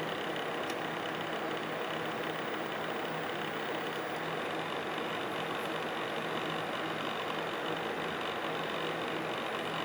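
An Alphacool Eisbaer water-cooling pump runs at 7 volts, a steady broadband whir with a low hum, continuous and even throughout, heard close up with no voices.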